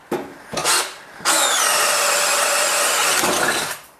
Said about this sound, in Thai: เดี๋ยวลองมาใช้ดอกเอาเกอร์บิดกันบ้างครับ ซึ่งตัวนี้เป็นขนาด 22มิล